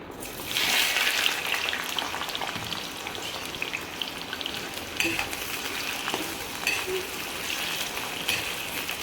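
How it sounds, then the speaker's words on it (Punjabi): Steady, loud sizzling and crackling of potatoes frying in hot mustard oil, with occasional spatters and stirring scrapes, continuing throughout without speech. "ਹੁਣ ਆਪਾਂ ਇਹਦੇ ਵਿੱਚ ਪਹਿਲਾਂ ਆਪਾਂ ਆਲੂਆਂ ਨੂੰ ਫਰਾਈ ਕਰਦੇ ਹਾਂ"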